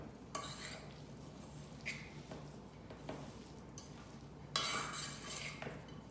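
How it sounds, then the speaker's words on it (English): A spoon stirs tuna salad with dried parsley, dill, salt and pepper in a bowl, giving quiet, close scraping and clinking strokes with a few sharper bursts of utensil against the bowl. "And then I'm gonna give it one last mix."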